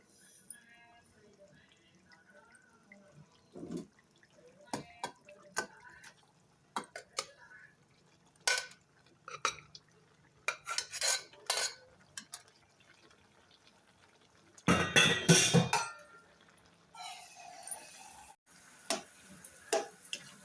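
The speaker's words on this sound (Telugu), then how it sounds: "ఇప్పుడు మనం ఈ రైసు ఈ పప్పు మొత్తం కలిసిపోయేలాగా నీట్గా కలిపేసుకుందాం" Cooked rice being stirred into dal in a pot for a festival kadambam offering, heard as scattered scraping and clacking spoon-on-pot strokes, with a louder burst of mixing midway, no voices.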